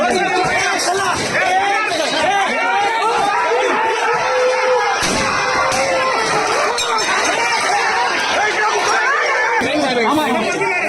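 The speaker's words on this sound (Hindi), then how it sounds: "कैसे पुलिस रोकती है, पुलिस भीड़ को नियंत्रित करती है" A dense crowd in Bangladesh being held back by police, heard as loud, constant babble of many voices with shouting and occasional clinks, close and busy throughout.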